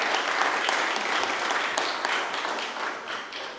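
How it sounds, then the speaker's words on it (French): An audience at a parents' round-table event applauds panel experts, a full burst of many hands clapping that carries on steadily, then eases slightly toward the end, with no talking over it. "on peut les applaudir, ça peut les encourager"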